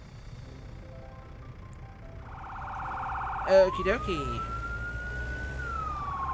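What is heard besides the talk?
fire truck sirens in video game Firefighting Simulator: The Squad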